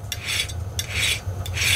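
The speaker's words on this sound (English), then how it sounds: "It's a 5/32 chainsaw file. And I'm just going to run it right against the file guide," A 5/32 chainsaw file rasps along a file guide on a chainsaw chain, three close, even strokes in steady rhythm, each a harsh scraping burst, with no talking.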